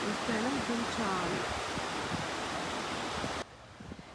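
The sea near Murudeshwar temple on the coast gives a faint, steady wash of surf and wind noise, with a voice talking over it early on before the sound dips at the end.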